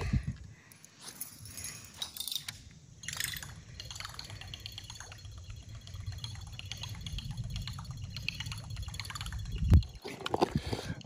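A buzzbait fishing lure churning the surface of dirty water over thick grass cover, a steady low gurgling and splashing run, faint and continuous with a sharper splash near the end.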